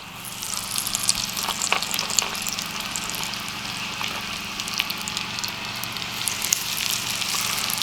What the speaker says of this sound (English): It's just a nice little sizzle just like that, and that oil is perfect.